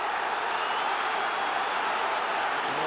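Football crowd at a 1996-97 UEFA Champions League group match between Rangers and Auxerre, a steady broad roar of supporters cheering to lift Rangers, sustained and even throughout with faint clapping mixed in.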